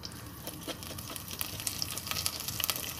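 Popcorn kernels go into preheated oil in a pot and sizzle faintly and steadily, with scattered small crackles and pops, heard alone and close.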